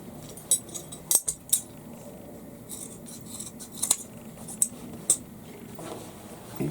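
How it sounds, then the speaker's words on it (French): Scissors cutting fabric for a tote bag, snipping the seam allowance beside sewn corners: a scattered series of crisp metallic snips and clicks at irregular intervals, close and fairly quiet over a soft background hiss. "Je coupe pareil de l'autre côté."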